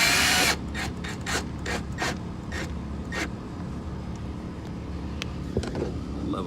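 A screw is driven to mount a fire extinguisher inside a Freightliner Cascadia truck cab, heard as a burst of a power tool followed by a row of separate sharp ratcheting clicks, close and without speech.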